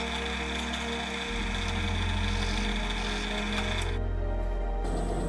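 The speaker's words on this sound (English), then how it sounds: "We mark the holes and drill 2 6-mm diameter holes." A drill bores two 6 mm holes into a lid, a steady whining motor drone that shifts pitch partway through as the bit bites, with a brief quieter break near the end and no voices.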